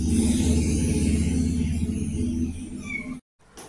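A sick kitten with crusted, infected eyes meows in a drawn-out, tonal cry close by, fairly loud and sustained before breaking off abruptly near the end.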